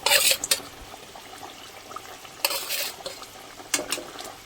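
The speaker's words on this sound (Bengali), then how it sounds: "এখন আমি ঝোলের মধ্যে সবগুলি মাছ দিয়ে দেব।" Pieces of katla fish drop one after another into boiling yogurt-based Bengali curry broth, making three wet splashing, clattering bursts against the pot, close and fairly soft.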